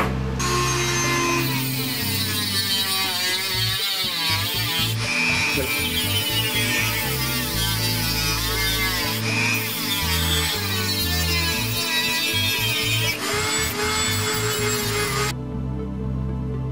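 A power tool cuts away the excess material from the backs of homemade Wolverine bone claws, giving a loud, continuous whining buzz whose pitch rises and falls as the blade bites, with brief pauses and no speech.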